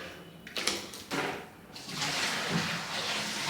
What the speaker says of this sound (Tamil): ஃபஸ்ட்டு இப்போ தண்ணி எடுத்து உள்ளே ஊற்றுவோம்.